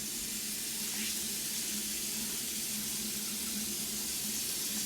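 Tap water runs steadily into a sink, filling it to soak built-up grime off a Rubbermaid scrubber, a continuous close, fairly loud rush with no talking.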